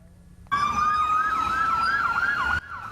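Police car and ambulance sirens speeding along a highway in Lewiston, Maine, during an emergency response, with a loud close wailing sweep over a steady tone that bursts in and cuts off abruptly after about two seconds.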